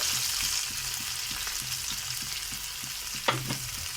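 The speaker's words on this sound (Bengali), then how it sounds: "হালকা ভাজা ভাজা হয়ে আসলে এখানে 2টো কাঁচা লঙ্কা আর টমেটো কুচি দিয়ে দিচ্ছি, দিয়ে একটু নাড়িচাড়ি করে নিতে হবে।" Green chillies and chopped tomato sizzle steadily in hot oil in a pan, with a spatula scraping and stirring in a regular rhythm and a sharper clack near the end; no voices.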